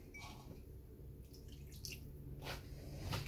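Warm tap water drips and trickles softly into a bowl for making bread dough, faint and close, with a few brief splashy bursts toward the end.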